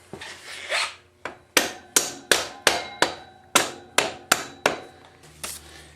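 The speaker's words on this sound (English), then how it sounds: "I'm gonna grab my rubber mallet, couple of hits" Around ten sharp blows from a rubber mallet tap the rear axle of a BMW F800GS motorcycle into place, struck close and loud in a steady rhythm of roughly two hits per second.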